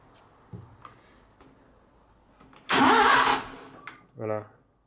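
A Ferguson TEA 20 tractor engine cranks and catches in a loud burst of about half a second, then dies down into a short rattling tail, with quiet ticking and a man's speech around it.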